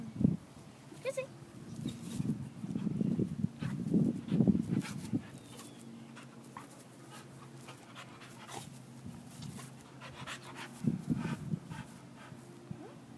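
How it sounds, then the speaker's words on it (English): A dog panting in excited bursts while playing with a yellow tennis ball, close by, with rustling and small knocks between the heavier breathing and occasional human voice sounds. "a cuckoo dog going nuts over a yellow tennis ball"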